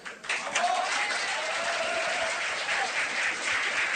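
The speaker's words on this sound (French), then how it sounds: "En témoignent, regardez, les applaudissements clairsemés." Sparse applause after a speech by Emmanuel Macron, a thin, even spread of clapping heard at a distance through a public-address or broadcast sound, steady for a few seconds.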